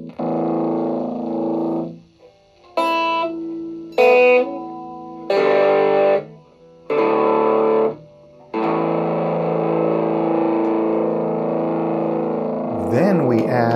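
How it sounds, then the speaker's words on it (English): Electric guitar through a distortion pedal plays a run of gritty, saturated chords, each held for a second or two with short gaps, ending in one long sustained chord; loud and close, no voices. "Then we're adding just a distortion."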